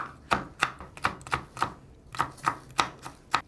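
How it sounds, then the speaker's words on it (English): A knife slicing cooked garnachas on a cutting board, about a dozen crisp, evenly spaced chops, close and clear, with no talk. "I'm gonna slice it up"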